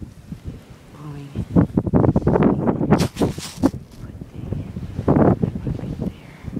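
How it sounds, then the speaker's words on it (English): Wind gusting during a snowy blizzard, roaring and buffeting against the microphone at close range, with a voice heard speaking through the rushing noise. "See, the wind is"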